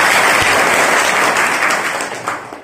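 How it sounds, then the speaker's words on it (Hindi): A crowd of women at a voter-awareness gathering in Patori block, Samastipur, gives a short burst of loud applause to welcome a guest, the clapping tapering off over a few seconds. "जोरदार ताली से आप लोग स्वागत करें।"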